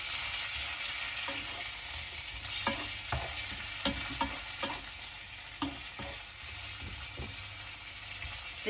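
Venison and vegetables frying in butter in a pan, with a steady broadband sizzle and repeated stirring scrapes and clacks throughout, moderately close, no talking.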